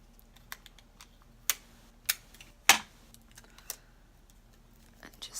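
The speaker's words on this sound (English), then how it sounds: "Break out our handy dandy Scotch tape" Scotch tape being pulled and handled at close range in a quiet room, giving a handful of sharp crackling rips and small ticks spread unevenly over a few seconds.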